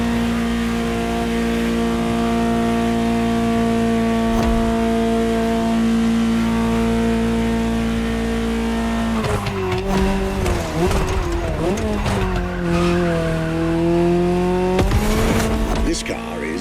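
Ferrari 308 GTO engine in the racing game The Crew Motorfest, a loud sustained tonal drone that holds steady, then dips and climbs through pitch changes as the revs shift, with someone talking over it.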